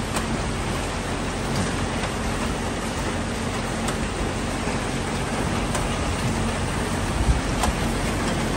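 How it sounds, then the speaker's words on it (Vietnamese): Steady rain falling during Typhoon Haikui in Taiwan in a dense, even hiss that stays constant throughout, with occasional louder drips standing out. "các bạn có thể nghe thấy cái tiếng mưa này"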